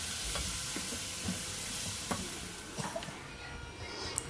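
Drumstick and brinjal being sautéed with masala in a pan give a faint, continuous sizzle, with scattered scraping and stirring clicks from a spoon.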